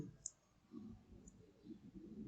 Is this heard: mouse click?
yes